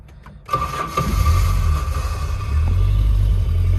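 A 1984 Volvo 240 engine catches after a short quiet moment and then settles into a steady, close, low rumble, held on a tiny bit of throttle so it keeps running.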